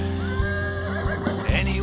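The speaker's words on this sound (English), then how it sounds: "Unless you count Bucephalus, but he's a horse." A horse whinnies and neighs loudly and close in a comedy sketch, the call wavering over about two seconds alongside faint background sound.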